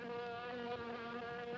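A housefly buzzes steadily and close, a continuous droning hum with bright overtones that holds for under two seconds without any voices.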